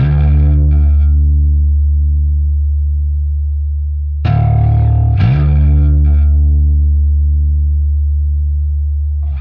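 Distorted electric bass plays a simple riff from a metal song, with long sustained low notes and a couple of sharp re-attacks midway, loud, heavy and alone with no voices.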